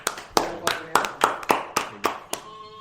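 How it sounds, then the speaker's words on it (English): A small studio group claps for a guest who has just walked in: eight or nine sharp, evenly spaced claps, close and distinct, ending with a faint ringing tail. "Round of applause for him."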